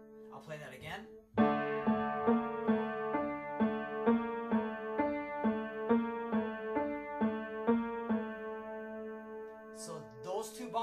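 The CM Punk WWE theme played on piano with the bass part, steady repeated sustained chords up close, with a short spoken bit before and another after.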